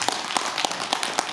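A church congregation claps together at a worship service, a steady run of about five sharp, evenly spaced bursts of applause that fill the room at moderate loudness with no voices over them.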